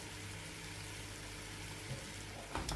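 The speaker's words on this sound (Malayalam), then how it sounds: "ഇതിലേക്ക് നമ്മൾ കട്ട് ചെയ്ത് വെച്ചിട്ടുള്ള ചിക്കൻ ചേർത്ത് കൊടുക്കാം" Chicken pieces frying with onions in a pan for chicken biryani, a faint, steady close sizzle with a brief stirring scrape near the end.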